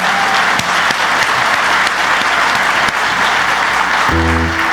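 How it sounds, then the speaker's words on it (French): Audience applause at a country music benefit show in Granby, a dense steady clapping that fills the whole stretch at full loudness, with a brief sustained musical tone entering near the end. "Je voudrais qu'on lui donne une belle main d'applaudissements."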